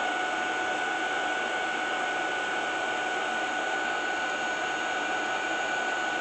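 Ultenic V12 Vesla cordless stick vacuum cleaner running steadily at close range, a constant whirring motor drone with a high whine, unbroken for the whole stretch.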